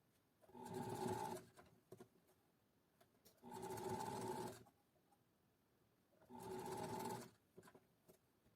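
Three short bursts of a sewing machine stitching a seam, each about a second long and separated by quiet gaps, close and clear, as when backstitching at the start and end of a topstitched seam.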